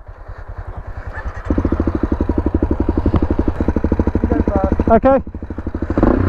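A Honda CRF250L off-road motorcycle runs in gear nearby, its single-cylinder engine thumping steadily and rising briefly in pitch, with a person speaking briefly over it.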